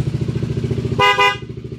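A Kymco Xciting VS 400 scooter's aftermarket Hella horn honks loudly in two quick bursts over a low idling engine rumble, close by.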